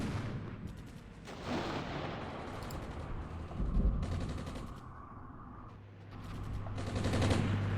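Artillery and gunfire rumble through a battle in the wargame Armored Brigade: repeated booming blasts and rattling volleys, loud and sustained, rising and falling over several seconds, with a low steady engine-like drone underneath toward the end.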